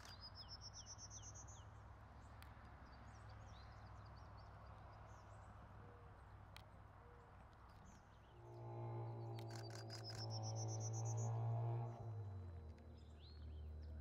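A prairie warbler's thin, rising buzzy call sounds faintly at the start and again near the end, over a low steady outdoor hum with rustling in between.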